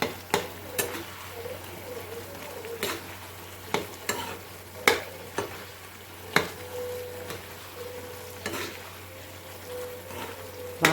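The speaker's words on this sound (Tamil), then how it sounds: "இப்போ நம்ம வந்து இது சூப்பராக கிண்டி விட்டுக்கலாம்." Curry seasoned with chilli powder and asafoetida, part of a North-style aloo matar, stirred in a pan: a soft steady sizzle under repeated sharp scrapes and taps of a spoon against the pan, spaced every second or so, close up with no talk.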